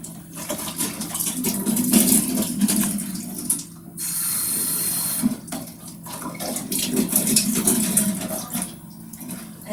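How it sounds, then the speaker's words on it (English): Tap water runs and splashes while soup stock boxes are rinsed at a sink, a steady close gush that breaks off briefly and resumes, with handling clatter. "with these stock boxes, I just usually rinse them a bit."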